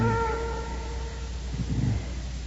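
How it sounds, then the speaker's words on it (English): Cats meowing in an old, shrouded castle room, drawn-out wavering cries that trail off, with a second softer yowl toward the end over a low steady hum. "I can't stand those cats."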